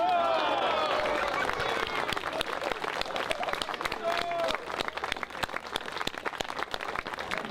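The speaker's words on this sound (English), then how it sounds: "you may now make free with wild applause and shouts of huzzah!" An audience at the 2013 Sampford Peverell Navvy Fair breaks into loud, sustained clapping with scattered shouts after a told tale, starting under a voice and carrying on as a dense, close crackle of hands.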